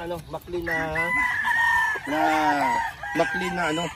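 A rooster at a game farm crows in several bursts, close and clear, each call rising and then trailing off, with a few clucks between them.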